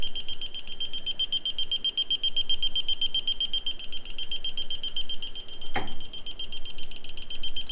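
An electronic gas leak detector emits rapid, high-pitched beeps in a fast continuous series, close and insistent, with a brief knock partway through.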